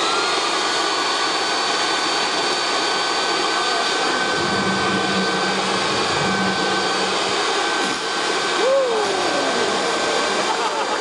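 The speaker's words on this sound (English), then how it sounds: "direct a stream of fast air over the top of this leaf blower" Leaf blower running steadily with a loud, even roar, a low hum joining for a few seconds midway and a brief pitch sweep near the end, at a keynote talk.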